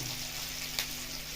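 Whole cumin, a cinnamon stick, cloves and cardamom fry in hot oil, giving a steady close sizzle with one small pop partway through, and no speech over it.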